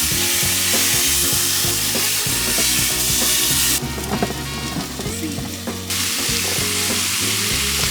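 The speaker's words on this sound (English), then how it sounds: "I like to fold the seasoning in, kind of like a cake or something" Ground meat sizzles in a pan as taco seasoning is folded through it, a steady crackling fry with scraping stirs, briefly quieter midway before the sizzle returns.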